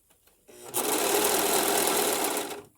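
A Singer Profinish serger stitches along fabric, its motor buzzing in one steady, loud run that starts after a brief quiet handling noise and stops just before the end, with no voices.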